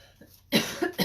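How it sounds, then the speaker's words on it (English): A person coughs a few times in quick succession, sharp and close, with a quiet breathy pause before the first burst. "Excuse my coughing."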